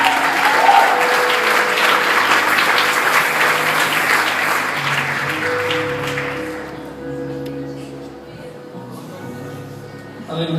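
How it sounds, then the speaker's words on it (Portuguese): A crowd applauds loudly and steadily, the clapping fading out midway as a voice speaks over a sustained musical tone. "Vamos aplaudir esse homem da tela"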